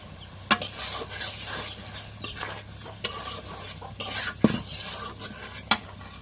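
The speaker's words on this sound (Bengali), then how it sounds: "এখন মাংসটা কষানো হয়ে গেছে, এখন কালাই গুলো দিয়ে দিই।" Boiled black lentils are added to a browned goat meat curry and stirred in a pot, giving repeated scraping stirs and metal clanks over a soft sizzle, close and moderately loud, with no talking.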